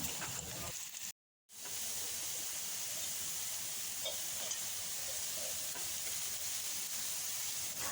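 Chopped vegetables fry in a pan for homemade chicken chow mein, giving a steady, close sizzle with stirring throughout and one brief cut to silence near the start.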